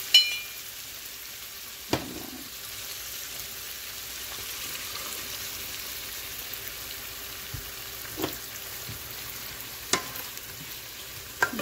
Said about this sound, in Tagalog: lalagyan ko ito ng patis habang ginagisa